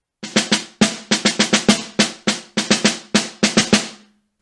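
A snare drum plays the last four measures of Portraits in Rhythm Etude #1. Crisp, close strokes come in irregular groups of accents and short rolls, then stop abruptly into silence.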